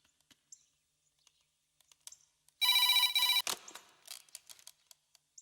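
A telephone in a Tamil romantic comedy film scene gives one short, loud electronic ring burst that stands out against a quiet room with faint clicks and taps before and after.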